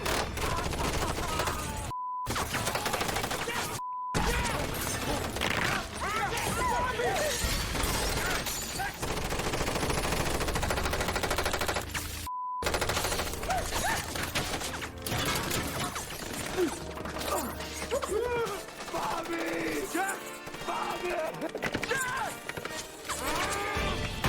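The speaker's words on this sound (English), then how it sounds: "while gunfire is just blazing in on you" Intense gunfire from a shootout scene in the film Four Brothers blazes almost continuously, rapid bursts and crashes layered with music and shouting, broken by a few abrupt silent cuts.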